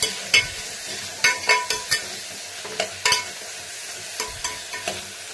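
Spices, mint and turmeric are stirred into egg biryani masala in a pan, with a series of irregular scraping and clinking strokes from the spoon over a soft, faint sizzle.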